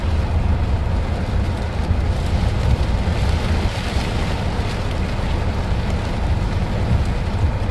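Heavy rain pours down beside a railway line in Leetsdale, PA, a dense, steady hiss that fills the whole stretch without letup and with no voices.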